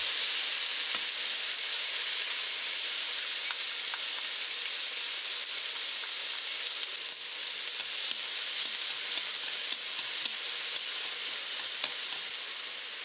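Sliced tomato and green onion stir-frying in a hot pan, a loud steady sizzle and hiss that runs throughout, with scattered small clicks of stirring and no voices.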